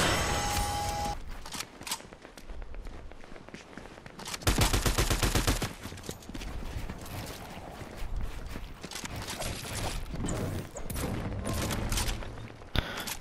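Gunfire in a PlayStation video game: rapid volleys of shots crackle and rattle almost continuously, with a heavier burst of fire partway through and no voices.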